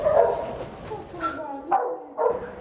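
Dogs at Battersea Dogs Home in London give three or four short, moderately near barks and yips, spaced about half a second apart, mixed with people talking.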